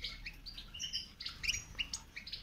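A small, wet bird pulled from a bucket of water after many hours chirps faintly in short, repeated high tweets, spread irregularly across a quiet background.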